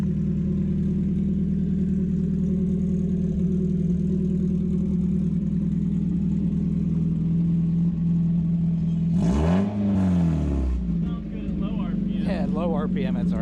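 A racecar engine without a muffler runs at low RPM, a loud, steady, rough drone holding close throughout, with a brief revving swell near the end and a voice talking over it.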